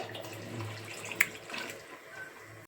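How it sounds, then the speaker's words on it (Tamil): Coconut milk pours into a pan while paal kozhukattai is cooked, giving a soft, steady liquid stream with a short splash partway through. "தேங்காய் பால் ஊற்றணும்"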